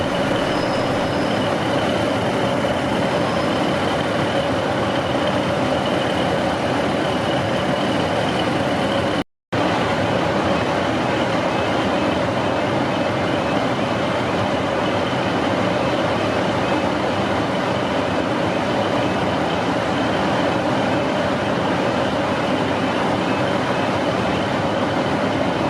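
A train waiting to depart for Carlisle gives off a steady low rumble and idling hum that carries on for the whole stretch, broken once by a brief dropout, with no voices.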